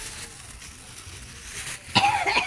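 A person coughs once, a sharp, close burst near the end after a quiet stretch of faint background noise.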